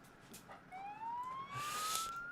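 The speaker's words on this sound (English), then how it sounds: "It's the FailRace ambulance. I would not trust this to help you." Ambulance siren in the BeamNG Drive driving game, a rising electronic wail that sweeps upward steadily and stays fairly loud over a low background hum of the game.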